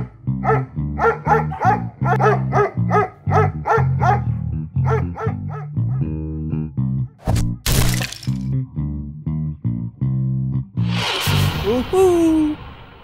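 In a children's animated story, a cartoon dog barks in a quick rhythmic run of loud yaps. Voices talk and a sharp crack follows.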